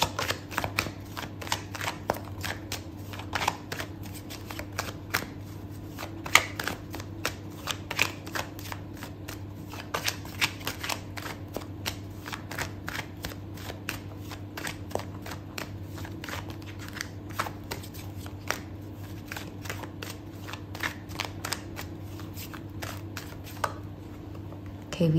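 Tarot cards are shuffled continuously, giving a long run of quick, crisp riffling clicks at a steady pace. The sound is close over a low background hum, with a voice heard briefly.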